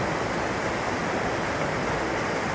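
A waterfall running with very little water gives off a steady, even rush of falling water, continuous and moderately loud, with no voices over it.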